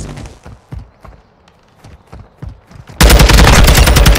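Gunfire in the hardcore mode of the video game Call of Duty: Modern Warfare II: scattered sharp shots crack in a loose rhythm, then a loud, dense burst of sustained automatic fire erupts close by.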